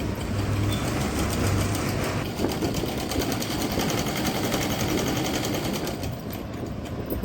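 Sewing machine stitching the neck strip on a baby suit, a loud, close, fast, even mechanical chatter that runs without a break.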